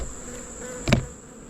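Honeybees buzz in a steady, continuous drone while being knocked down into one corner of a container for a mite wash, with a brief sharp knock partway through.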